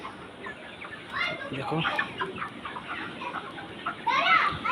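Chickens cluck in a poultry farm shed housing about 150 birds, with ceiling fans running, a steady murmur of calls rising and falling across the clip beneath occasional nearby talk.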